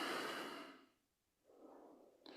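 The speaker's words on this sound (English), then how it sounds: "Breathing in, breathing out." Slow breaths during a tai chi breathing exercise: a loud breathy exhale fading to a pause, then a softer inhale starting, close and alone with no talk.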